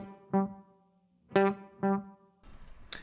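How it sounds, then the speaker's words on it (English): An electric guitar through a Dr. Scientist Sunny Day delay pedal set to a single repeat plays short chords, each followed by one quieter echo, with slight amp reverb, then a brief scratchy strum at the end. "so now it's just a single repeat, listen."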